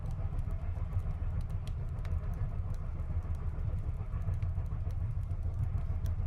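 A passenger train runs on rails through mountains, giving a steady, continuous low rumble with faint rhythmic clicks on top, even and unbroken throughout.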